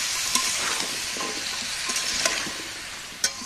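Cauliflower florets, cauliflower stems and quartered potatoes stir-fried in a pan, giving a steady close sizzle with scraping stir strokes and a few sharp clinks of the spatula, no voices.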